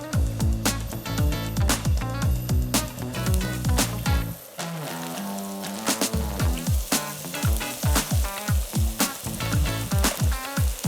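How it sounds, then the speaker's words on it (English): Meatballs searing in a pan with a bit of oil, sizzling loudly and steadily with rhythmic popping crackles, close up, briefly quieting midway before the fry picks back up. "a bit of oil in the pan. And all we're going to do is just sear these meatballs"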